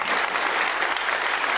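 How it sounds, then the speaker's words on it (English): An audience at a public talk about fluoride in Auckland claps together, with dense, continuous applause filling the room at moderate volume. "Could we please put our hands together?"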